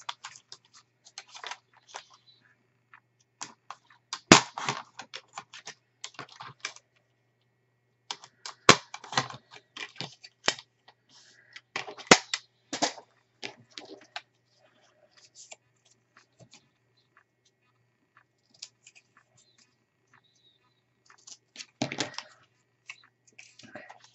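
Paper pieces for a Graphic 45 album bookshelf craft being cut down to 4.5 inches, heard as quiet, crisp clicks and snips in irregular bursts with pauses between, close by and with no talk.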